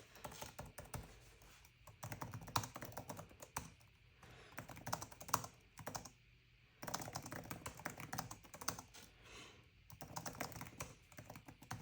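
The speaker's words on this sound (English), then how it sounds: "So now I've got this entered and it's time to start typing" Quiet, steady clicking of keys being typed on a reMarkable Type Folio keyboard, coming in quick runs separated by short pauses.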